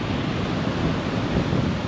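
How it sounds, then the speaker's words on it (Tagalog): Steady, loud wash of sea waves breaking on a shore under a clearing morning sky, a continuous roar mixed with wind buffeting the microphone, with no voices. "At medyo maliliit na rin yung alon."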